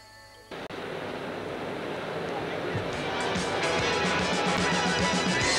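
Ocean surf on the beach at Carcans in the 1980s makes a steady, broad roar that swells gradually louder, with no distinct breaks between the waves.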